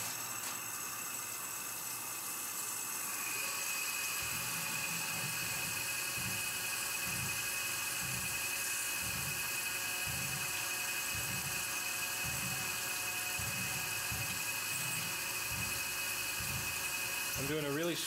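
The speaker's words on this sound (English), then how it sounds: "Now I'm going to come in and drill all those holes that I just spotted out." A drill press pecks holes for knife thumb studs and pocket clips in a Timascus handle blank, a steady high motor whine with a regular pulsing rhythm from short repeated pecks, fairly close and even.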